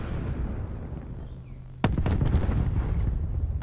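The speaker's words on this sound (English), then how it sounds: "Throwing a cluster grenade." A cluster grenade goes off in Black Ops 4 Blackout, one sudden loud blast midway through followed by a cluster of rapid sharp pops and rumbling that carries on to the end over steady background noise.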